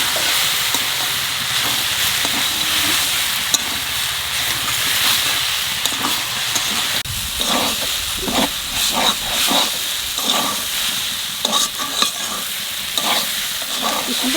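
Water spinach greens cooking in a pan with garlic and dried lentil dumplings: a steady, close sizzle and hiss with scraping stir strokes throughout, growing busier in the second half, no talking.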